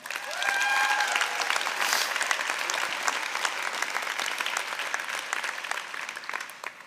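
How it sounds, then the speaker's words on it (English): A graduation ceremony audience at SIT breaks into loud, sustained applause, many hands clapping together in a large hall and slowly tapering off, with a few brief cheers near the start. "Please give yourselves a round of applause."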